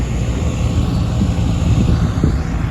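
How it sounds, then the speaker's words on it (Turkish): Tractors working at full throttle on a sloped fig orchard field, a loud, steady low engine drone that holds without a break throughout. "Traktörlerimiz son gaz çalışmaya devam ediyor"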